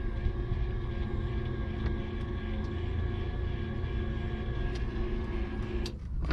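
Light airplane wing flaps extending, a steady droning electric whine with a constant tonal hum that runs evenly and close before easing slightly at the end; no one speaks.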